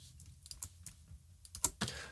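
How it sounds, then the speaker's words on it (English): A bunch of keys jingles and clacks in small bursts on a table, with a brighter cluster of metallic rattles near the end, close up and alone in a quiet room. "These are also my keys."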